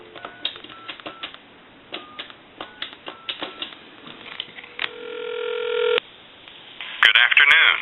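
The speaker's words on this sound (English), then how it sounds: "We'll go ahead and dial, say, a time and temp number." A telephone line is dialed to a time-and-temperature number, a quick rhythmic series of short tone pulses followed by a steady held tone. A recorded announcement voice then starts near the end.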